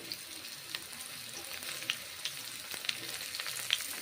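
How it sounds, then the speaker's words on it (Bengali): Pointed gourd and mushroom fry in hot mustard oil, giving a steady close sizzle with soft crackles and a few sharp pops throughout, with no voices. "ভেজে নিচ্ছি এখন পটলগুলো, গরম তেলে"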